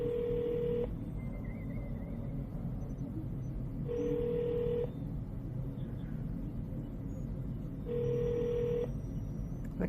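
A telephone rings back after a call transfer, three evenly spaced ring bursts each about a second long and roughly four seconds apart, heard faintly over a steady low rumble.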